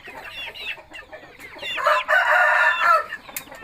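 Hens cluck and a rooster crows loudly and nearby inside a chicken coop after heavy rain and strong wind, with scattered clucks leading into a sustained crow.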